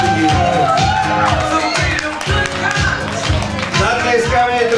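A crowd clapping at a 2015 team draft event, rhythmic, loud applause from a large audience over booming music with a strong beat, alongside an announcer's voice.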